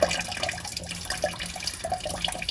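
Coolant trickling and splashing from the radiator of a BMW 135i E82 with an N54 engine, a steady close wet patter with small surges.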